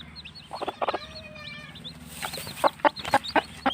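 A hen clucks with her small chicks, repeated short clucks and sharp high peeps in bursts, close by, over a low steady background hum.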